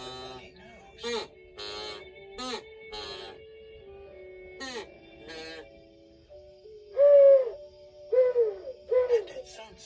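A sound-effect owl hoot, a run of short tonal hoots near the end, comes in and out between and under the lively spoken narration of a children's story.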